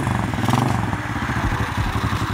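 A pit bike engine starting up and idling, a loud close rapid putter with steady uneven pulses and a mechanical clatter throughout.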